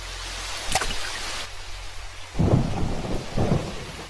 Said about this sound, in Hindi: ये बारिश कब तक चलेगी?